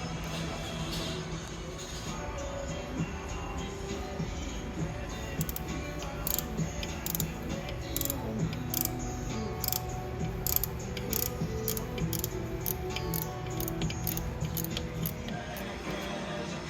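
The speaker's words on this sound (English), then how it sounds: "Now I'll be able to take this second bolt off" A ratcheting wrench turning a bolt loose on the engine of a Jeep Wrangler TJ, rapid regular clicks repeating steadily up close for many seconds.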